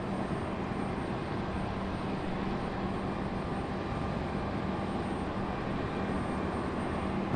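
An Alaska Airlines jet taxis at RDU airport, producing a steady, fairly faint broadband engine roar heard at a distance with no change in level throughout.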